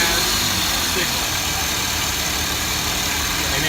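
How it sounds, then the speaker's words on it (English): A car engine running at a steady idle, close and loud, with a constant low rumble throughout and no clear start. "we're going to go ahead and cut the car on"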